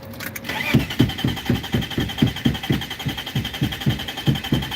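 A BMW engine cranking as it tries to start, with a steady rhythmic series of starter chugs, about three per second, loud and close, ending without catching.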